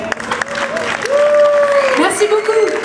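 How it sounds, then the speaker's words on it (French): An audience at a live aerial dance show claps steadily, with a voice over a loudspeaker talking over the applause. "Je vous demande d'applaudir très fort aussi."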